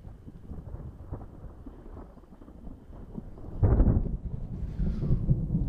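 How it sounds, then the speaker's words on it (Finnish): Sudden loud rumbling clap of thunder during a storm at a lake while pike fishing, breaking in around the middle over steady rain and wind noise and rolling on to the end. "Tuo ukkonen tuli kyllä täysin puskista."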